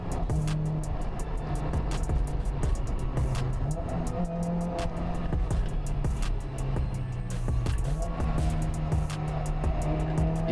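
A car engine revs and the throttle blips during a reckless street race between an Audi TT and a Peugeot 206 RC, with continuous loud engine drone and repeated rises and falls in pitch throughout.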